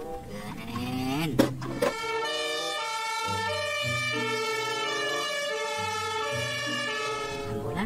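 A red toy ambulance plays an electronic siren with a steady two-tone wail that repeats over and over. A person speaks over it at the start, and a short clatter is heard as the toy is handled.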